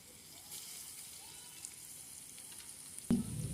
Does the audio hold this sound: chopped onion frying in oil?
yes